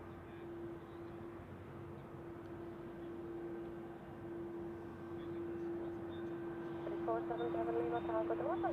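An Airbus A220 airliner taxis toward runway 28 at Zurich Airport, its engines giving a steady, fairly distant hum with a constant tone that slowly grows louder, while a person talks quietly over it.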